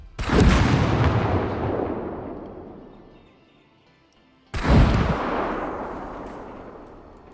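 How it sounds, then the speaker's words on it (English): Two loud, booming unsuppressed .50 BMG rifle shots in the video game SCUM, each a sharp blast followed by a long rolling echo that fades over several seconds, a short silence between them. "Without the suppressor, it sounds like this."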